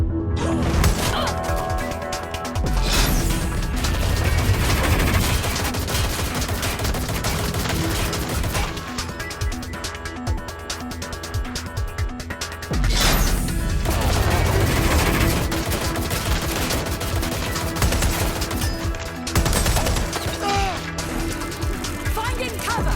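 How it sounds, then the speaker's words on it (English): Gunfire in the Watch Dogs Legion video game: dense, loud bursts of shots, crashes and impacts layered under a constant game soundtrack, with shouted voice lines in between. "Gunfire!"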